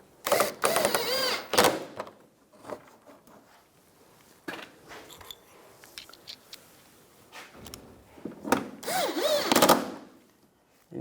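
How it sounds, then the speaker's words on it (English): Screws being driven and snugged down into a 2004–2009 Toyota Prius front grille, heard as short bursts of whirring power-tool buzz separated by pauses and small clicks, close by and with no speech. "take the screws, get those started, and snug those down"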